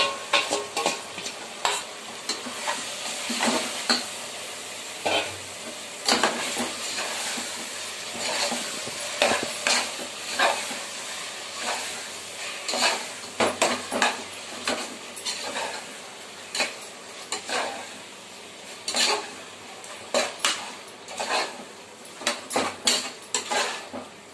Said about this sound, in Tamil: இப்போ வந்து எறாவை சேர்த்துக்கலாம் ஃப்ரெண்ட்ஸ். இதில் அந்த ஊற வச்சு வச்சிருந்த எறாவை சேர்த்துக்கலாம்.